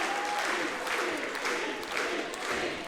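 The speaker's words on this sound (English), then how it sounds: "The crowd are chanting for it." A wrestling crowd at a Slammasters show makes a steady, distant wash of chanting and cheering that rises and falls in gentle waves, with no clear single voice.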